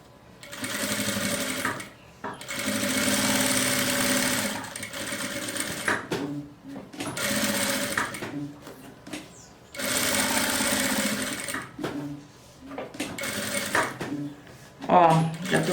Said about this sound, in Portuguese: aí costura a volta toda pra gente prender o bolso aqui na parte de fora